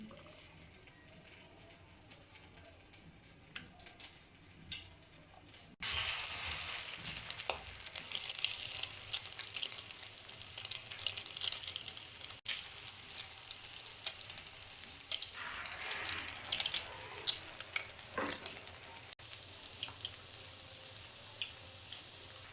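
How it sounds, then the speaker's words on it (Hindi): Egg-dipped vegetable cutlets sizzling in hot oil in a home kitchen, with a quiet crackle that jumps to a louder, steady frying hiss partway through, plus faint bubbling and spattering bursts. "अब मैं अंडे को और कबाब को अंडे के अंदर डिप करके फ्राई करूँगी।"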